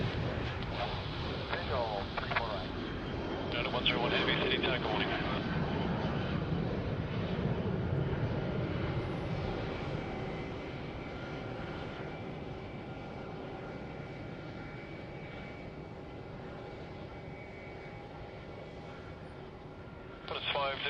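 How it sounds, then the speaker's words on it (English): A Boeing 737-700 airliner at Sydney Airport makes a sustained jet engine roar that swells and then slowly fades as it passes, with radio chatter and voices heard over it. "I believe that was the 737-700. Looked a little bit shorter."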